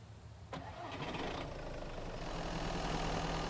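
A car engine cranks and catches in the survival video game Mist Survival, with a sharp starter onset, then a steady mid-pitched idle that swells slightly toward the end, heard alone without talk.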